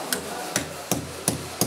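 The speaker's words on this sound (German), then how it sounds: "Und dann wird er mit dem Hammer verkeilt." A wooden wedge block is hammered into a hole in a wall, five sharp, evenly spaced knocks sounding close and clear over low background noise.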